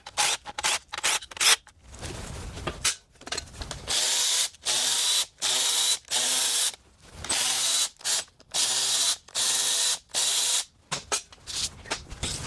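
An impact wrench or power ratchet spins bolts off a Tesla Model S P85 large drive unit gearbox during a rebuild, in a string of loud, sharp whirring bursts separated by brief pauses, with no talking.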